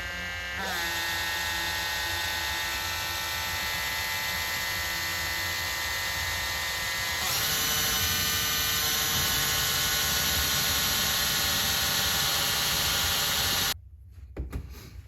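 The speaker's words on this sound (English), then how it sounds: "We're just going to slowly try to drive a screw in" A power driver whines steadily for about thirteen seconds, slowly turning a screw into the old differential seal of a Triumph Spitfire, a loud, close tone that shifts pitch midway before cutting off.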